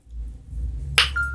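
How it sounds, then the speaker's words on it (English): A mobile phone gives off a short electronic alert, a sharp bright tone followed by a sustained steady beep, heard over a low background hum indoors. "Sorry for that little noise, that's my phone beeping off."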